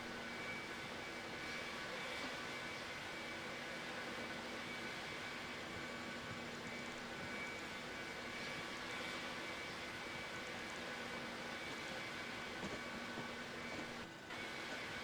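An airliner taxis across grass at an airport, a steady, faint engine drone and broad whoosh holding evenly from start to finish without any voices.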